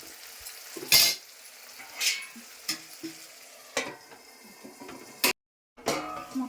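Frying taro being turned in a pan, a series of irregular spatula scrapes and light clinks against the metal, close and moderately loud, with a brief dropout of sound near the end and no talking.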